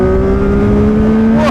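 A 2025 CFMoto 675 SR-R motorcycle, 94 horsepower, accelerates hard after a downshift, its engine note loud and close, steadily climbing in a short burst with wind rush.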